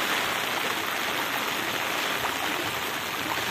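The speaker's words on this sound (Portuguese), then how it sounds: "Muita água correndo aqui." Rainwater runs steadily after a rain in the backcountry of Tanque Novo, Bahia, a dense, continuous close rush like a stream that carries on without any talk.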